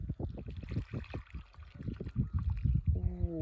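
Water is poured off from strawberry, raspberry and blackberry seedlings: a close, faint series of uneven splashes and trickles, with a brief tonal creak near the end.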